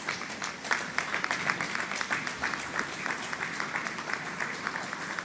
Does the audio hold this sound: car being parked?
no